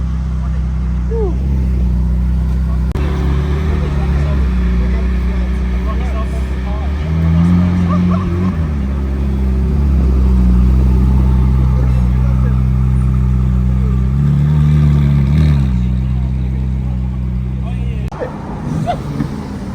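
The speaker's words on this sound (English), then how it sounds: "This with the right exhaust will sound like an F1" At a Sunday supercar meet with a Ferrari 458 Italia, Lamborghini Huracan and AMG GT, a loud engine drones steadily, swelling in a few revs, with people talking over it.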